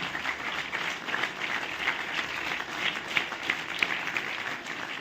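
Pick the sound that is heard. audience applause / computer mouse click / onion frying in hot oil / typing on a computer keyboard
audience applause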